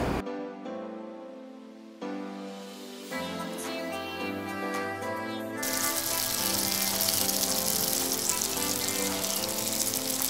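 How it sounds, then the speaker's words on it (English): Loud, steady sizzling of food frying in a pan, a dense crackling hiss that swells and grows brighter after a few seconds, with clinking in the background. "We'll let that sizzle."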